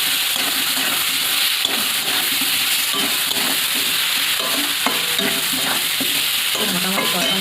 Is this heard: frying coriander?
yes